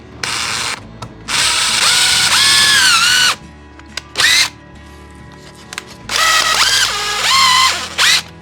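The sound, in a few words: power drill drilling into a workbench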